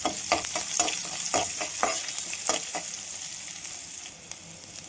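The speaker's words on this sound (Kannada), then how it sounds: "1-2 ನಿಮಿಷ ಫ್ರೈ ಮಾಡ್ಕೊಳ್ಳೋಣ." Onion, green chilli and kasuri methi frying in oil with a bright, steady sizzle, punctuated by a quick series of spatula scrapes and taps, easing slightly in the last second; no one speaks.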